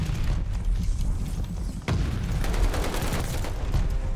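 Call of Duty Vanguard gunfire: dense, crackling volleys of shots, close and loud, with a sharp louder burst partway through followed by continued rapid firing over a noisy battlefield background.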